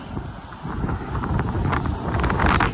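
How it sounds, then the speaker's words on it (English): Wind rises outdoors, gusting against the microphone in a rough, close rumble with hissy bursts that swell louder toward the end. "Of course, now the wind picks up as soon as I step outside."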